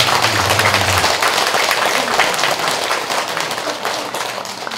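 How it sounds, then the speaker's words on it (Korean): An audience at a Buddhist temple ceremony, an opening service in Korea, gives a big round of applause, loud, dense clapping that carries on steadily with a low hum beneath, fading slightly toward the end. "큰스님께 수고하셨다고 큰 박수를 보내드립니다."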